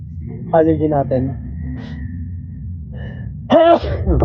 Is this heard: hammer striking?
no